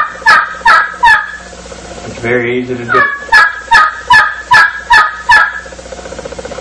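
Wooden friction turkey call worked with a striker yelps out a rapid run of sharp, rhythmic notes, pauses for a speaking voice, then speeds into another quick series of loud, close yelps.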